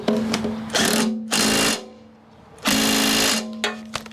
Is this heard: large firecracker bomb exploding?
no